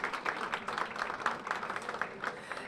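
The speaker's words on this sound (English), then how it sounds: "Give him a big round of applause." An audience at a Turkey Bowl team luncheon applauds Vince Grey, a soft, even patter of many hands clapping at a distance.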